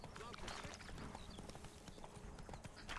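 Steady, quick clip-clop of horse hooves trotting on hard ground, continuous and close, in The Witcher 3: Blood and Wine.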